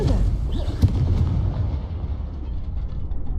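A Confringo fire spell blast in the Hogwarts Legacy video game: one sharp, loud boom followed by a rumbling roar that slowly fades, with no talking.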